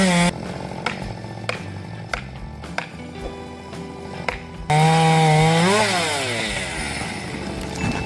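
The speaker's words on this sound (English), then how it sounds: "With its sharp chain and powerful engine, the chainsaw allows the user to easily cut through the trunk and fell the tree" A chainsaw with a sharp chain and powerful engine cuts through a tree trunk, its motor droning loud and close, then surging into a harder, higher-pitched rev partway through before easing slightly.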